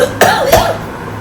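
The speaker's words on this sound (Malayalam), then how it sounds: "ചുമക്കുന്ന" Two quick harsh coughs, close and loud, one right after the other, fading into quiet room noise.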